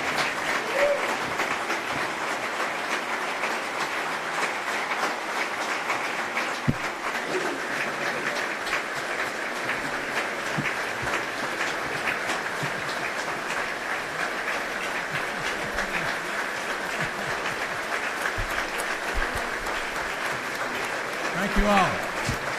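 Steady applause from a large State of the State audience welcoming Georgia Governor Nathan Deal, a continuous even wash of clapping that holds for over twenty seconds with a faint murmur of voices in the crowd.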